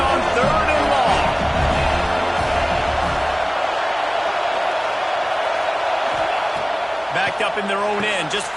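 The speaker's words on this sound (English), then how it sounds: "This crowd with a bolt of energy on 3rd and long." A football stadium crowd in a college football video game gives a broad, sustained roar during a USC versus FSU matchup, loud and steady beneath a commentator speaking over it.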